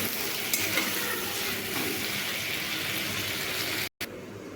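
Food with salt fries in a pan, a steady dense sizzle with light stirring, close and continuous, cutting out briefly near the end.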